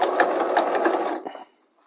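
A sewing machine back-tacks while stitching a patch pocket: a fast, steady mechanical whirr for just over a second, then a short lighter burst before it stops, close and alone.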